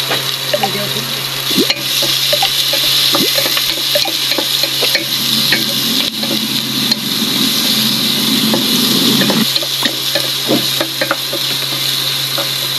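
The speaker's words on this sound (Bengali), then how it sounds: "প্রথমে তো পেঁয়াজ মরিচ আম্মু ভেজে নিচ্ছে।" Onions and chillies fry in an oil-filled kadai, giving a continuous close sizzle broken by the light scrape and tap of a stirring spoon.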